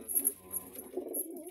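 A pigeon coos softly in a few low, throaty murmurs close by, over a quiet background with faint high chirps.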